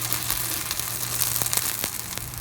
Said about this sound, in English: Look at that beautiful kofta cooking.